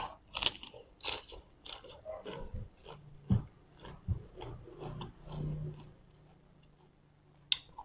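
Someone eats a crunchy squid salad with crispy pork rind, making a series of close, irregular bites and crunches with wet chewing in between, with a sharp crunch near the end.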